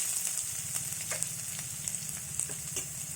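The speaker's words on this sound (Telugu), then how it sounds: "కొద్దిగా అల్లం ఇవన్నీ బాగా ఫ్రై చేయాలి" Ginger fries in a pan for pulihora, giving a continuous low sizzle with faint, occasional stirring clicks, close and fairly quiet.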